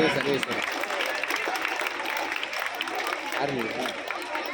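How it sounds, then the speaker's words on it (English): Parents applauding at a school annual day prize ceremony, a dense sustained clapping from a crowd throughout, with voices mixed in. "Parents, please clap your hands."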